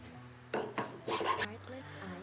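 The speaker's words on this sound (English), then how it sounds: "I'm going so fast with this chainsaw file that it's actually heating up." Quick, rough rasping strokes of a round chainsaw file against a laminated wooden slingshot frame, several short bursts in rapid succession, close and fairly quiet.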